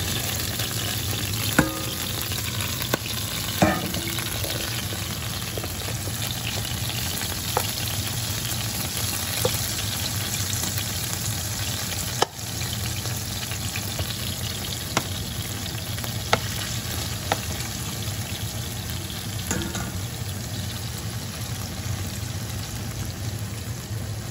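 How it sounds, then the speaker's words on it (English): Shrimp fry in a teaspoon of butter in a pan over low heat, a steady close sizzle with crackles and occasional stirring clicks running throughout, no talking. "And I added about a teaspoon of butter. I'm just gonna throw my shrimp."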